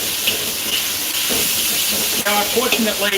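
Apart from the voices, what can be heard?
bacon frying in a wok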